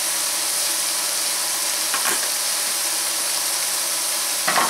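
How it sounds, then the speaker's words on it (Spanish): Garlic fries in a clay cazuela as a steady, close hissing sizzle, with a couple of brief louder crackles breaking through. "Y también va para la cazuela el ajo."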